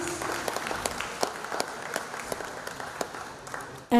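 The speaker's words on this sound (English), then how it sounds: "give them one more hand of applause" Applause from the audience at a lunch keynote during an economic symposium in Palau, a moderate steady round of clapping that lasts about four seconds and ends abruptly.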